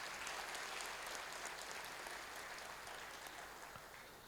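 Steady, faint applause from a crowd honouring a probationary IPS officer rolls on without a break and slowly fades toward the end.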